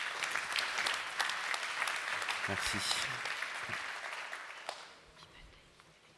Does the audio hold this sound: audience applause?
yes